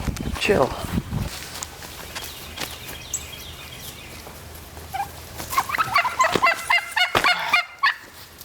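Turkeys in a winter farm pen, with scattered gobbles and honking fowl calls near and far, footsteps and rustling, and a flurry of busier calls toward the end.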